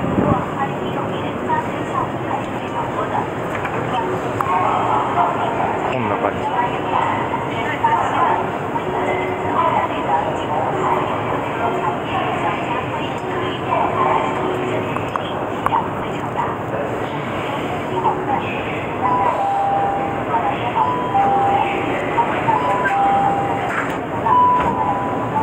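Riding a Ningbo subway train: steady loud rumble of the car rolling on rails with faint clicks and brief high squeals, while people talk throughout.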